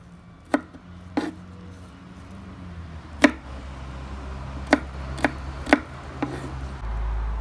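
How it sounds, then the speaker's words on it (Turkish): A knife chops garlic on a cutting board in sharp, irregular single strikes, close by, over a low steady hum, while preparing Belen tava, a dish from Hatay. "sarımsaklarımızı normal doğruyoruz şöyle"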